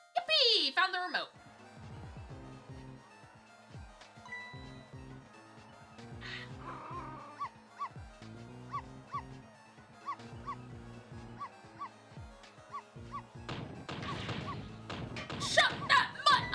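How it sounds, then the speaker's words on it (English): Missile, a small dog in the video game Ghost Trick: Phantom Detective, gives a string of quick, sharp yips and barks. They are mixed with whimpers, game music and crashing effects, and near the end the noise swells into a loud burst. "No, Missile, you're not supposed to bark."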